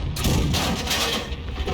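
Tank gun fire in a tank video game, heard as a dense, rumbling roar of in-game blast and engine noise that fills the short moment, loud and continuous.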